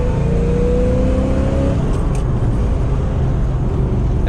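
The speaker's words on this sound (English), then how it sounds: "if you hear some noise, it's something with the back right wheel" A numbers-matching 1965 Corvette Stingray with a 327 engine drives with a loud, steady engine rumble and a rising whine early on, a possible noise from the back right wheel mixed into the road roar.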